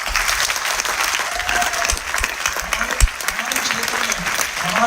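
Sustained audience clapping at a BBS Delhi gathering, a thick, even roar of hands with scattered voices and a few sharp accents mixed in.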